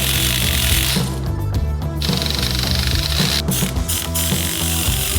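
A hydraulic jack being pumped up under a MINI during an engine swap, with steady ratcheting mechanical clatter over a droning hum and a couple of brief dropouts, close and fairly loud, with no talk.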